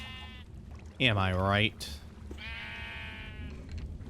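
Sheep in Minecraft let out a loud, wavering bleat near the middle, followed by a softer second bleat, with someone talking over a steady background hum.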